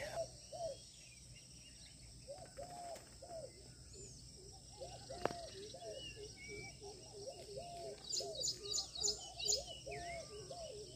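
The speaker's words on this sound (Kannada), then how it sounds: "ಪಕ್ಷಿಗಳು ಹೇಗೆ ಚಿಲಿಪಿಲಿ ಚಿಲಿಪಿಲಿ ಮಾಡ್ತಾ ಇದೆ" Small birds chirp outdoors in short, repeated twittering bursts, steady through the scene over a constant insect-like drone, moderately distant and fairly faint, with no talk.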